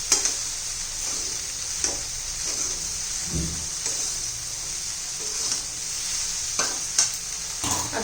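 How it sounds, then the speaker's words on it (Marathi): Okra (bhindi) frying over a medium gas flame while being stirred, a constant hissing sizzle punctuated by intermittent scraping strokes and soft knocks, close by and without speech. "व्यवस्थित मिक्स करून घेऊ चार पाच मिनिटं लागतील मध्यम गॅसवर आपल्याला भेंडी करून घ्यायची आहे"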